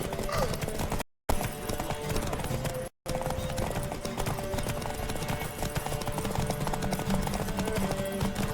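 A horse gallops in The Witcher 3 as a race begins, with fast rhythmic hoofbeats running steadily throughout, joined by in-game voices over the pounding.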